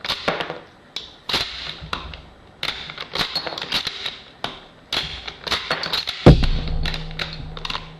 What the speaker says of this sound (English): So we'll just chamber these rounds one by one.